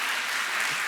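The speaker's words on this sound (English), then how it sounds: "maybe a quick round of applause for that" An audience at a talk about Beatrix Potter's life claps in a short, steady burst of dense, even applause that fills the room.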